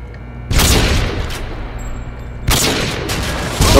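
An M21 rifle firing in Modern Warfare 2 multiplayer, two loud, sharp close shots about two seconds apart, each with a long ringing echo tail, and a third shot cut off at the very end.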